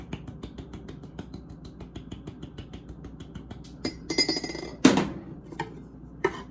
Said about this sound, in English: So I usually would just mix it straight into the glass.